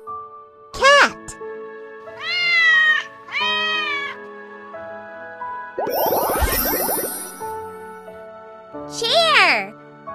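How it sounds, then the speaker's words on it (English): A cat meows repeatedly in a children's first-words game, several clear, close cries including two paired calls and a louder strained yowl, set against sustained chime-like musical tones. "Cat!"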